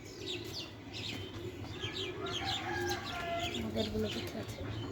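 Chickens on a poultry farm cluck and coo continuously nearby, several birds overlapping, with faint voices in the background.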